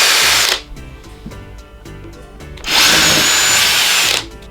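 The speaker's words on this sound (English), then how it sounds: "Let's see how it goes drilling." A Metabo SB 18 LTX BL Quick cordless drill whirs loudly in two bursts, first spinning then drilling into hardwood, with a quieter clattering pause between them.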